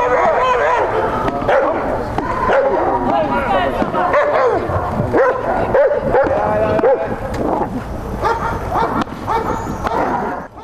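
A giant schnauzer barks and growls loudly and continuously during bite work at a dog competition, with handlers' voices and talk mixed in throughout.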